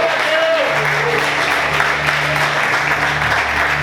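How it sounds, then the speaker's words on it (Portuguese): Church congregation clapping for the Lord mid-sermon, a continuous, loud spread of applause over a held organ or keyboard tone, with a few voices rising through it. "Você pode aplaudir o Senhor."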